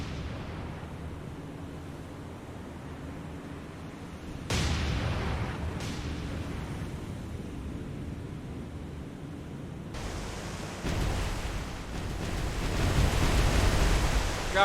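Naval artillery and gunfire in the War on the Sea game, heard as sustained rumbling noise punctuated by heavy booming blasts, with the loudest salvos landing near the middle and end.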